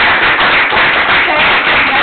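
A round of applause at a town council meeting, dense steady clapping from a crowd, loud and close, sustained throughout with no talk.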